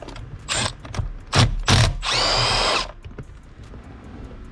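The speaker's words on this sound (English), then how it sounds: "you got to use a T30 Torx socket to get" A T30 Torx socket loosens an airbag bolt, giving short bursts of ratcheting, whirring tool noise and a sustained grinding spin near the end, close up with a dull background hum.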